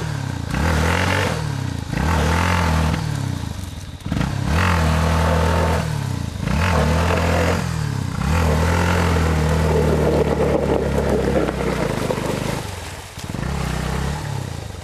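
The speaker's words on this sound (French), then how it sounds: "Voilà comment Yamaha passe un gué." Yamaha motorcycle engine revving hard and repeatedly as it crosses a water ford in Gabon, loud and close, with rising and falling surges, clattering and scraping throughout.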